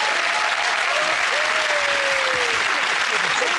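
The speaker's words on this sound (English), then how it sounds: "Give that round of applause to Chris" Studio audience applauding on a comedy panel show, a steady, dense wash of clapping that stays loud and even from start to finish, with a faint whistle-like tone drifting through the middle.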